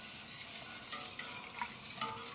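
Chili powder stirred into chili in a hot pot, a steady sizzle with continuous scraping and stirring strokes, close and fairly loud throughout, no voices.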